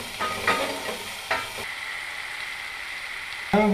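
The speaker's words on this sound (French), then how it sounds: "Vous y mettez le sucre et vous le faites légèrement caraméliser" Sugar caramelizes in a frying pan while being stirred, with a steady close sizzle broken by a few sharp scraping strokes and a louder stir at the end.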